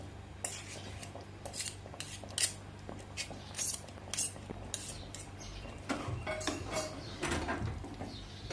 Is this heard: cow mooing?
no